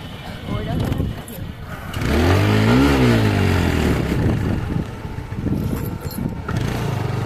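A motorcycle engine hums and revs during a night ride, rising in pitch through a brief acceleration before settling to a steady drone, with people talking over it.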